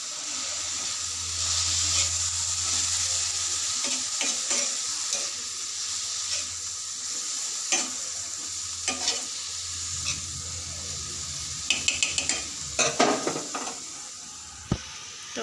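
Amaranth greens sizzle and crackle steadily in a hot pan, with occasional scraping stirs and clinks of a utensil against the metal.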